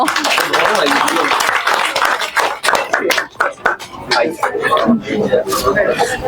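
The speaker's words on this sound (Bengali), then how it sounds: "হাততালি সিয়ামের জন্য।" An audience claps for contestant Siam at a Rajshahi cooking competition audition, a dense burst of applause that thins briefly mid-way and picks up again, with a host's voice and crowd chatter over it.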